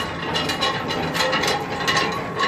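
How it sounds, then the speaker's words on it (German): A truck trailer's landing gear is cranked down by hand, a rapid, steady metallic ratcheting of gears repeating through the clip, close and moderately loud, with no talking. "Einmal gezogen, dann kannst du runterkurbeln."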